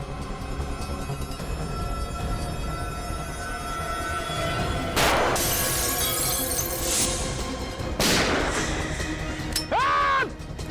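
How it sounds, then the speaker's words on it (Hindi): Gunfire in a crime-drama scene: two sharp, loud cracks several seconds apart cut through a steady background bed, followed near the end by a brief ringing, whistling burst. "ये समझ में नहीं आ रहा है, फायर कहां से हो रहा है?"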